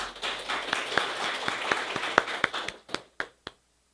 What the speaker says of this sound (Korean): 필리핀에게 다시 한 번 더 큰 박수를 부탁드리겠습니다